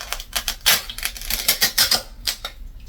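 Cardboard is cut up close for a fake layered-cake gift box, giving a loud, irregular run of crisp crunching snips and scrapes with brief pauses between strokes and no talking.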